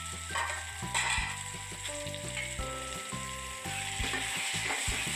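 Chopped sponge gourd cooks in a pan on the stove, giving a steady soft sizzle up close with occasional scraping clatter as it is stirred.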